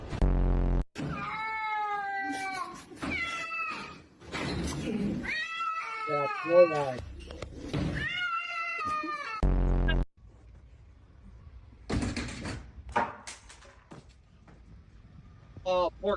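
A cat meows and caterwauls repeatedly in drawn-out, wavering cries at close range, overlapping with people talking, followed by quieter stretches with thumps.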